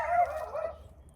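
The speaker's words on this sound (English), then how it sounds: "oh, there goes the dog." A dog gives a single short, muffled bark or yelp, a little distant and fairly soft, over a low background hum.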